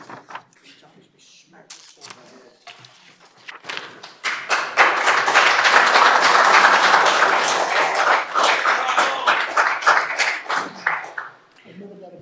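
Applause from the audience at a city council meeting after the city manager's speech, a dense wash of clapping that swells in, holds for several seconds, then tapers off, with some talk before it begins.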